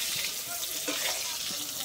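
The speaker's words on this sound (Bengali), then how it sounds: "আমি বেগুনটা আবার লাল করে ভেজে নেব" Eggplant pieces fry in oil with a little salt, a constant close sizzle with occasional soft stirring knocks and no talk.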